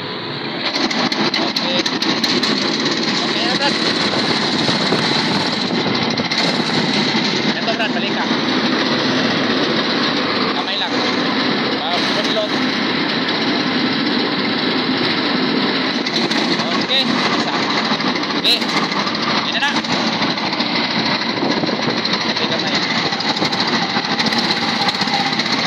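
A brand-new one-bagger concrete mixer with a Rubin engine runs steadily at close range, a loud continuous engine drone with mechanical rattle filling the whole stretch and no break in level.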